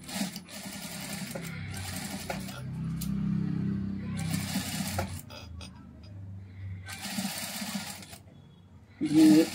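Domestic sewing machine attaching lace trim during a tailoring lesson, running in steady whirring bursts with pauses between runs, close and moderately loud.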